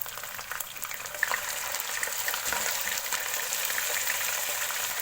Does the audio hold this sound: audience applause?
no